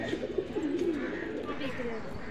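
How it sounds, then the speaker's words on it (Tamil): Pigeons at Sayaji Park and Zoo in Vadodara coo in soft repeated rolling phrases close by, with a person speaking over the birds. "புறாலாம் நிறைய இருக்கு."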